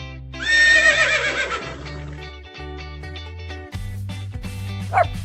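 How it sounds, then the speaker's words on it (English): A farm horse gives one loud, clear neigh that rises and trembles, heard over steady background music. "Horse."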